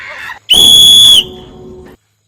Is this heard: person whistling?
yes